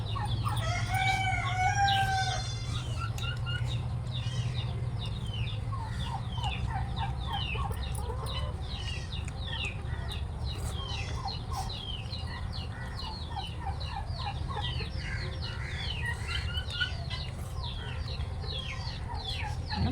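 Hens cluck and chatter steadily throughout while a rooster crows near the start, the whole flock sounding close and busy over a low background rumble.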